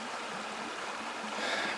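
Water from a small stream runs beside a hiking trail, a steady close rushing flow with no voices.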